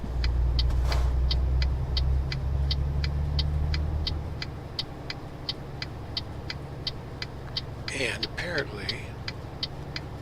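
A truck engine hums steadily in Euro Truck Simulator 2, loud and low at first then easing to a quieter drone, under a regular ticking signal light, with a brief voice near the end.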